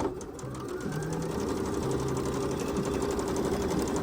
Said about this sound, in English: Here's the Bernette 38 that I was working on. Listen to this.